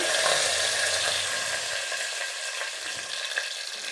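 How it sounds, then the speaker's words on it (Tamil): A bunch of curry leaves frying in hot oil, a loud, dense, continuous crackling sizzle close by with no voices. "இது இப்படி பொரிஞ்சு வரும்போது அதில் நம்ம ஒரு கொத்து கருவேப்பிலை"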